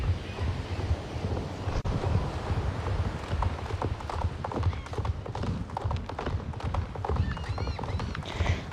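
Hooves of a galloping horse in a fantasy video game drum in a steady fast rhythm under gusty wind noise, moderately loud and continuous.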